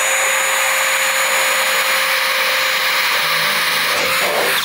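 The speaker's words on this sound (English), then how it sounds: "So what I'm gonna do before I drill those holes" A steady high-pitched whine of a power drill running continuously, drilling holes in sheet metal for a 1960-66 GMC/C10 truck firewall, loud and close, with a faint grinding bite near the end.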